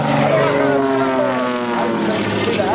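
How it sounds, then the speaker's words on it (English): The Shockwave jet truck's old, worn surplus jet engines roar continuously at an air guard open house race, a loud, dense, unbroken blast with no let-up, heard close to the track. "he's got nothing but some old worn-out surplus jet engines putting out a bunch of hot air"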